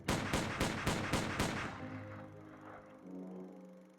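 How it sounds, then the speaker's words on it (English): A burst of gunfire from a visual novel game, several rapid loud shots in a quick string over the first second and a half, then trailing off into a low sustained tone. "the sound of gunfire and smoke rushed towards the boy as though a bunch of firecrackers had been set off"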